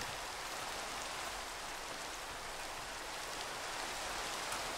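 Steady rain in the video game Into the Fog, an even, faint hiss of falling drops that holds constant throughout without any voices.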